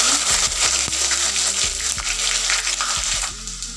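Garlic going into a pan of hot oil with whole spices, bay leaves and salt while cooking chicken masala, giving a steady loud sizzle with a few clinks and taps over it, no talking.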